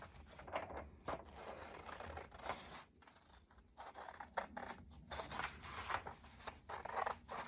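Scissors cut paper tags for a junk journal, giving a series of crisp snips and rustles in irregular bursts separated by short quiet pauses, close by and fairly faint.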